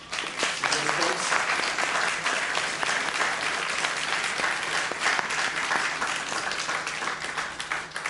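A live audience applauds a group of people at a community gathering, dense steady clapping filling the whole stretch at a fairly close, even level with no talk over it.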